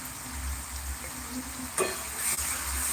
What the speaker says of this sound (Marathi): आपल्याला हे भाजून घ्यायचं आहे कढीपत्ता आणि कांदा बघा आता भाजत आला